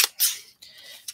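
Quick, crisp snips of scissors cutting during a tag flip book craft: a few short, close bursts without speech.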